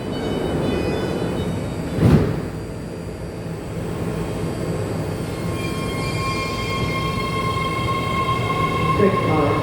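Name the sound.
BART train at San Leandro station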